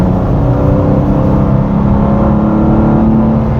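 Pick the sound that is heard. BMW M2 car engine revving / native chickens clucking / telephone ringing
BMW M2 car engine revving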